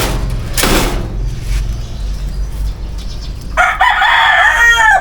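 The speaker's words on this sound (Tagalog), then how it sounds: "Dinig niyo yung mga manok." A rooster crows loudly near the end, a long harmonic call rising over steady low rumble and background noise near a motorbike; a brief broadband burst comes earlier.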